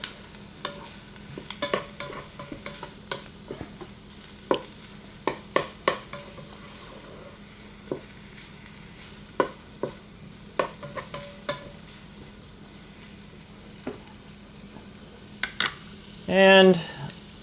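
Pre-cooked pork and mushrooms being stirred and browned in a Ninja Foodi pot, with irregular scraping clicks of a utensil against the pot over a faint sizzle, a voice talking intermittently.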